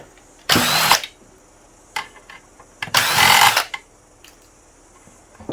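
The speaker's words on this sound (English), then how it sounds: "now you can quickly undo those screws." Two bursts of a power tool spinning out screws from a rear projection television being scrapped, each about half a second to a second long, with faint clicks and handling knocks between them.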